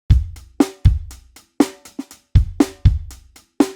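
Programmed drum pattern of punchy kick and snare hits in a tight repeating groove, with softer quiet snare ghost notes tucked just ahead of the main beats, clean and close with no talking.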